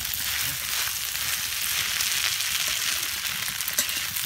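Aligue rice, made with crab fat, sizzles and fries steadily in a pan while being stirred at an outdoor cooking spot, a loud, close, continuous hiss with faint scraping of the utensil.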